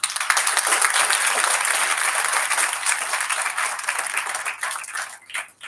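Listeners at a Hindi Diwas poetry recital applaud, a sustained, fairly loud round of clapping from a crowd that tapers off toward the end.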